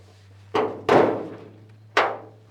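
A new washer nozzle is pushed into the bonnet of a Toyota Landcruiser 80 Series, giving three close plastic thunks and clicks spaced over a couple of seconds against a faint low hum.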